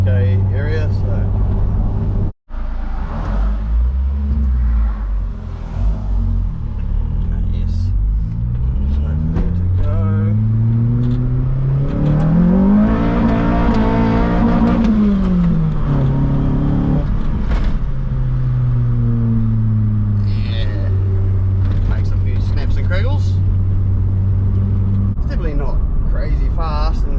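A Nissan P11 with an SR20VE engine revs up through the gears from inside the cabin, its tone rising and falling, then bogging and struggling to climb again after a shift, loud and close, with a brief dropout near the start.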